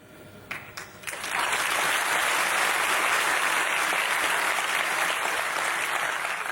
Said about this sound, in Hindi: समझ ही गए हैं सब, ताली वाली बजा दी